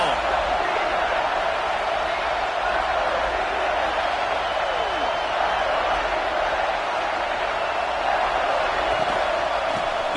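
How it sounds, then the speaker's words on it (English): A college football stadium crowd roars in a steady, broad wash of noise during a red-zone defensive stand in a video game, continuous and dense, with a voice talking over it. "The crowd getting behind this defense as they try to get a stop in the red zone."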